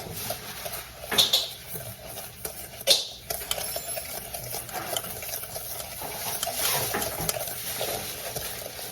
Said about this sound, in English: So the stirring begins.